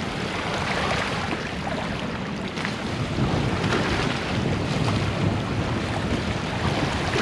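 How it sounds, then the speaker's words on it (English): Steady, loud wind buffeting a camera microphone beside McGulpin Point Lighthouse on the shore near Mackinaw City, a continuous roar with no voices. "Protecting the camera from the wind."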